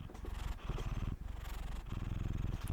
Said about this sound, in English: I have no idea if y'all can hear his purring.